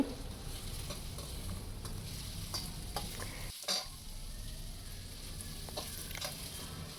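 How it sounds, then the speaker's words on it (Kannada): Sliced onions sizzle and fry in a pan for radish rice, with steady close stirring and scraping throughout and a brief pause near the middle; no talking. "ಇದು ರೋಸ್ಟ್ ಆಗ್ತಾಯಿದೆ ಇದಕ್ಕೆ ನಾನು ಇವಾಗ ಉದ್ದಕ್ಕೆ ಕಟ್ ಮಾಡ್ಕೊಂಡಿರೋಂಥ ಈರುಳ್ಳಿನ ಹಾಕ್ಕೊತಾ ಇದ್ದೀನಿ"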